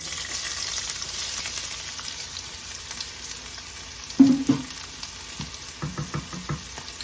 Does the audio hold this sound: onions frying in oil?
yes